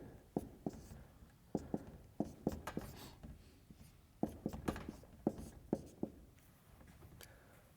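Chalk tapping and scratching across a board while equations are written in a circuits lecture, a quick irregular run of sharp taps and short strokes, close and fairly quiet, no talking over it.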